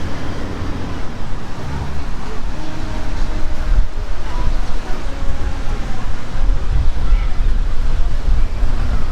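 Atlantic Ocean waves wash onto a sandy beach in a continuous rough roar, mixed with gusty wind buffeting close by.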